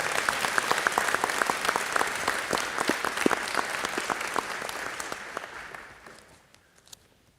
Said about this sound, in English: can we get one big round of applause for all of our nominees tonight?